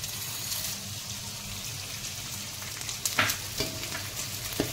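Edible gum frying in hot ghee for a Makar Sankranti sweet: a soft, steady sizzle that grows busier near the end, with a few sharper clinks and stirring scrapes close by.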